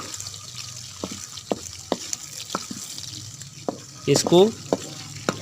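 Chopped onions frying for a chicken chana dish, a soft steady sizzle in the pan broken by regular sharp scrapes and taps of a spoon stirring, with a brief spoken word near the end.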